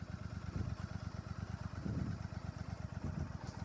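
Royal Enfield motorcycle engine in second gear, a close, steady thumping single-cylinder pulse as the bike slows, with no talk.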